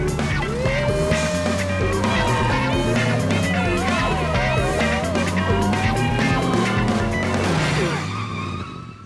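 Cartoon getaway car racing with police cars in pursuit, engines revving and tires squealing loudly through the chase, with sirens wailing in the mix and brief voices.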